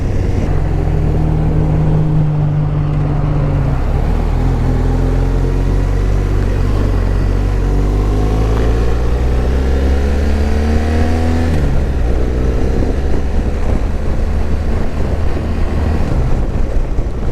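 2016 BMW R1200RS motorcycle cruising on a state highway, a loud continuous engine drone with shifting pitch, heavy wind rumble and a gear change, heard from the rider's position.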